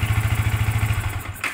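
A Yamaha Vixion motorcycle engine idles close by with a quick, even chugging pulse. It cuts out abruptly near the end, followed by a faint clatter.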